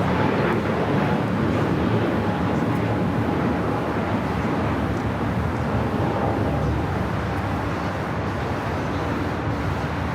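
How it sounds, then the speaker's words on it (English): An Emirates Airbus A380 arrives at Los Angeles LAX, a steady broad jet roar that stays loud and constant throughout, heard from a spotting position with no talk. "we're going to pan over to the north side now for a arrival. That would be the Emirates A380"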